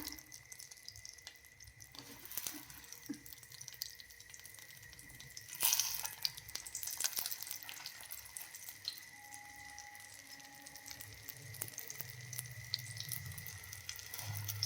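A chapati roll frying gently in a little oil over a low gas flame, giving a steady soft hiss and crackle throughout, with faint kitchen clinks and no talking.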